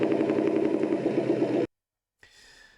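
Engine sound played from a Beier USM-RC-3 sound module in an RC truck, a steady idling rumble that cuts off abruptly, then after a short silence a quieter engine sound resumes.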